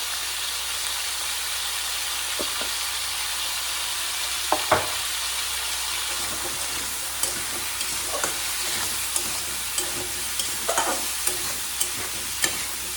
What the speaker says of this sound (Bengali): প্রথমে দিয়ে দিলাম তেল, তারপরে দিয়ে দিলাম সর্ষে, তার মধ্যে একটুখানি রাঁধুনি আর শুকনো লঙ্কা তুলে দিয়ে একটু ভাজা ভাজা করে তার মধ্যে আমড়াগুলো দিয়ে দিলাম